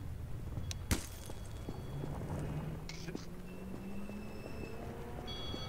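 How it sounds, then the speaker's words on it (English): A train rumbles past in Garry's Mod during a WWII roleplay, a low steady rolling drone with a sharp clank near the start and faint metallic squeals, under quiet voices. "Dude, watch the train."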